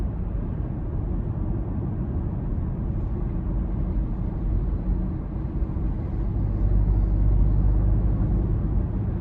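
Steady low rumble from a 2024 Porsche Macan T cruising on light throttle, a smooth engine and road drone with no talk that swells slightly louder toward the end.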